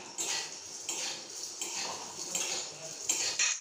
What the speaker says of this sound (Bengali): আমি চাউমিনটা ভাজছি।